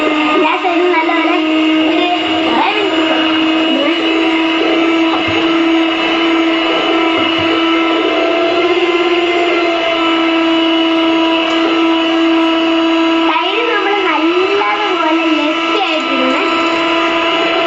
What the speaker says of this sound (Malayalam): ബ്ലെൻഡർ എടുത്തിട്ട് നമ്മൾ ചെയ്യാൻ പോണേ. ഫുൾ സ്പീഡിലിടാം.